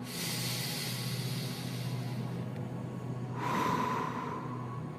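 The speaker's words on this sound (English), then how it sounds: "keep breathing in and out very slowly. Fill up your lungs and then release any tension that comes in." Slow, deep breaths during a guided meditation, drawn in and released in long airy passes, close and steady with a fuller exhale swelling near the end; no talking.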